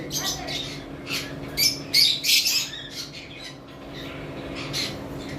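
Blue lovebirds at a bird farm squawk and chirp in short, shrill bursts, several calls in quick succession, over a low steady background hum.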